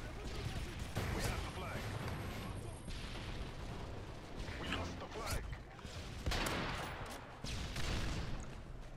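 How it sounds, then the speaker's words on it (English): Gunfire from a sniper rifle, the L118A, in a first-person shooter video game, with repeated sharp shots and bursts in a busy battle mix full of explosions. "I fired my gun and then scoped in."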